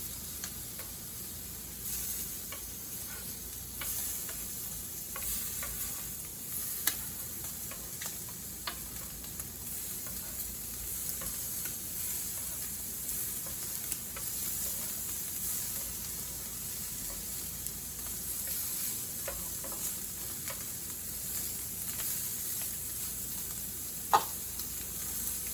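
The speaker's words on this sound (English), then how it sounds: "So I'm going to turn my shrimp over now." Shrimp sizzling in a pan as part of a home gourmet seafood meal, a faint steady hiss of frying with occasional small ticks and clicks, even and unbroken throughout with no talking.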